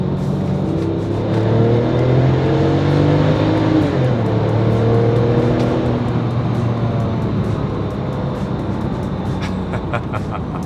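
A Porsche 911 997 Turbo, all-wheel drive, accelerates hard with a loud, steady engine roar that climbs in pitch as boost builds, heard close and continuous with no talk over it.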